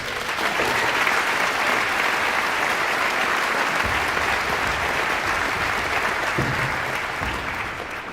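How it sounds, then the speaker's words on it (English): Sustained applause from a large audience at a university presidential investiture, steady clapping that holds strong and begins to taper near the end. "Let's give them another round of applause."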